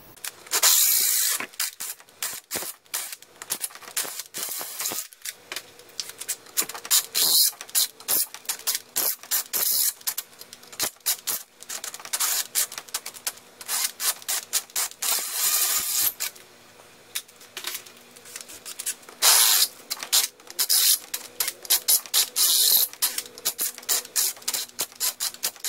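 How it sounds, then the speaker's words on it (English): A power drill grinding through metal in long continuous bursts with brief pauses, drilling out a pin on a Johnson Evinrude 20-35 HP outboard motor, harsh and close, accompanied by ratcheting mechanical chatter. "So I'll start drilling."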